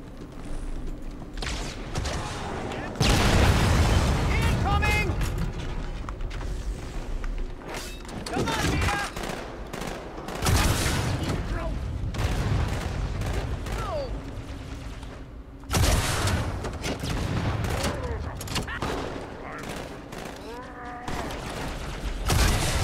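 Halo 2 gunfire in a firefight, repeated bursts of shooting with thumps and mechanical clatter, mixed with shouted voices and game dialogue over the noise.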